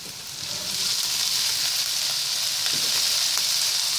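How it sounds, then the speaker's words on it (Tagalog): Boiled pork, previously simmered with pepper and salt, frying with onions in a pan, giving a steady, bright, continuous sizzle that stays close and loud with no voices over it. "Medyo half cook na po yung pork natin. Medyo ipapry lang po natin ng konti."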